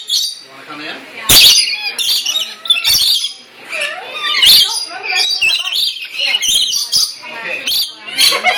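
Many birds chirp and squawk indoors in a busy, continuous chorus of sharp near calls and tweets, with a few loud squawks standing out.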